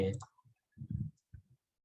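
Mouse clicks sound in short, quiet taps in a near-silent room, mixed with brief murmured speech fragments between them.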